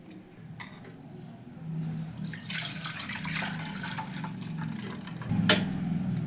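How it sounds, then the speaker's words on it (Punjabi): Water poured over freshly churned homemade butter to wash it, with a steady running, splashing pour that swells louder midway and again near the end, close by with no talking. "ਇਹਦੇ ਵਿੱਚ ਆਪਾਂ ਨਾ ਪਾਣੀ ਪਾ ਕੇ ਇਹਨੂੰ ਧੋਵਾਂਗੇ"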